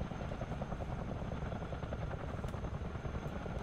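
A CH-47 Chinook tandem-rotor helicopter in Microsoft Flight Simulator gives a steady, dense rotor and turbine drone that holds at an even level for the whole stretch, with no voices over it.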